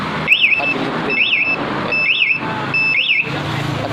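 A Yamaha R15 v3 motorcycle's MP two-way alarm in movement mode chirps four times in a regular rhythm, each a short, loud, warbling electronic beep close by with brief gaps between.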